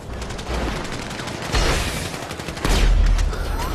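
Dense bursts of gunfire in a Grand Theft Auto 5 Online team deathmatch, a steady rattling barrage with heavier booming volleys near 1.5 and 2.7 seconds, loud and continuous throughout.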